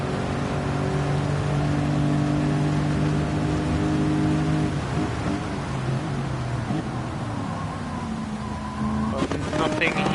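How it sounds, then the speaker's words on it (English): A hypercar in a Nürburgring GP endurance sim race roars past with a sustained, loud engine drone, its tone shifting as it passes, while a commentator talks over it. "Now we see the hypercar flying by."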